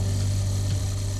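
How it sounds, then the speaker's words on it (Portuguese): A Ford or Volkswagen Autolatina fuel-injected car engine runs at a steady idle during an oxygen sensor test, giving a low, even hum with no talking. "Ligue o motor ainda com o terminal desconectado."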